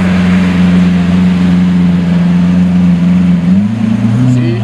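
A Lamborghini Aventador fitted with an SV body kit holds a loud, steady engine drone through a launch at a Gumball rally event, the pitch shifting upward near the end as the revs change.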